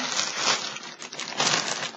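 Plastic bag packaging crinkles close up as skeins of yarn are unwrapped, a continuous rustling that swells and fades in two bursts with no talk.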